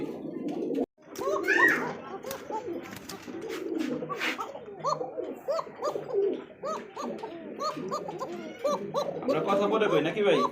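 German Beauty pigeons coo in repeated, rhythmic throaty calls close by, with someone talking over them at times.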